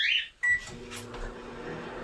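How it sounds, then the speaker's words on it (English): A kitchen microwave oven clicks shut and starts up, followed by a low steady hum with a faint rattle, close by and running on its own without talk. "Next I will put this in the microwave"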